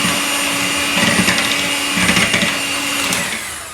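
Eggs for a raspberry and white chocolate blondie batter are frothed with an electric mixer, a close, steady whirring drone with slight rises in pitch as the beaters move through the bowl.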